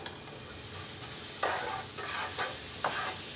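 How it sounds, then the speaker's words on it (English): Butter and brown sugar melting in a pan as a utensil stirs it, three or four scraping sweeps over a soft steady sizzle. "you're just going to keep stirring until this brown sugar completely melts"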